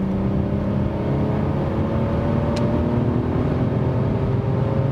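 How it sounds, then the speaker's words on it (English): Steady, loud engine drone with rising tones, heard from inside a 2021 Mercedes E450 Cabriolet (A238) accelerating in sport mode from 100 km/h, the pitch climbing smoothly under road and wind noise. "So when we are already at speed, what about the acceleration?"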